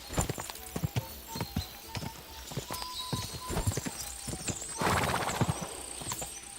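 A horse in the video game Kingdom Come: Deliverance II gallops with sharp, rhythmic hoofbeats and snorts. A whinny and a burst of rustling come midway.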